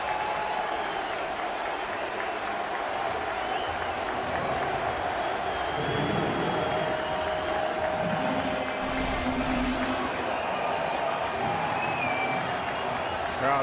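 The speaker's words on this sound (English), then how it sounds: "In general, the crowd, both sides, have been fun, entertained, and loud." A baseball crowd in San Diego at a World Baseball Classic game between the USA and the Dominican Republic roars with sustained applause and cheering, dense and continuous throughout, under a commentator's voice.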